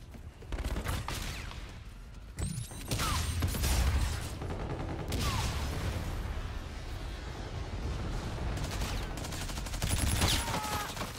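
Heavy, sustained gunfire and explosive blasts from a Call of Duty match, with dense overlapping shots, booming impacts and occasional sharp cracks over a constant battlefield roar.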